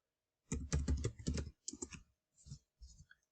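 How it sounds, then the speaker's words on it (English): Bursts of computer keyboard typing, a fast cluster of clicky keystrokes followed by a few short separate taps, close and alone. "Let's type this."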